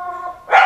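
A single sharp pit bull puppy bark bursts out after a brief stretch of quieter tonal sound, close and fairly loud.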